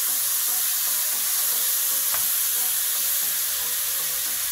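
Butter melting and sizzling in a hot pan while a bread dumpling bake (Semmelknödel-Auflauf) is prepared: a steady, close frying hiss throughout, with a single faint click partway through.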